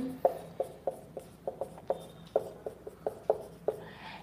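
Chalk taps and scratches across a classroom board as a heading is written, giving about a dozen short, crisp strokes in an uneven rhythm. The sound is close and moderately loud, with no talking over it.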